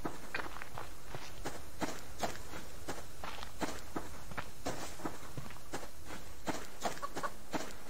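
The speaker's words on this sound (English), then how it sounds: "Shut up, chicken." Chickens cluck among farm fowl while close footsteps crunch in a steady walking rhythm, the bird calls scattered and partly masked by the steps.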